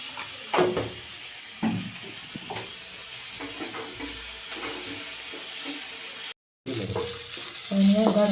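Ingredients for biryani being sautéed in a pan, with a spoon stirring and scraping in several bursts over a steady sizzle and hiss, heard up close with no talk.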